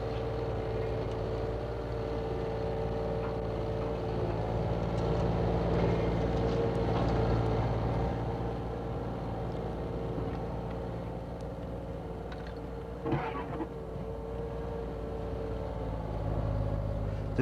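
A 37-ton Comet tank drives across rough ground at the Glen of Imaal. Its engine gives a steady, continuous rumble with a drone that stays fairly even throughout, and there is a short clanking burst partway through.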